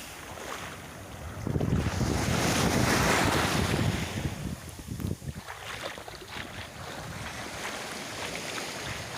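Waves on the shore at Jangka beach on a calm sea, a soft wash of surf that swells and recedes, mixed with gusty wind buffeting the microphone.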